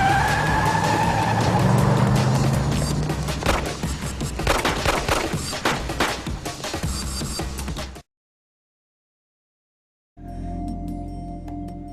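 A Gremlin car drives hard with loud tire squeal and skidding for about eight seconds, then cuts to silence before a steady engine hum resumes.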